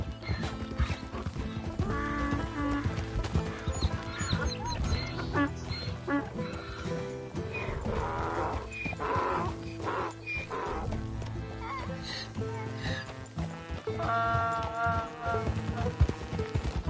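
Donkey braying and neighing in Red Dead Redemption 2, heard against a dense, continuous game soundscape with hoof clip-clops and other layered sounds throughout.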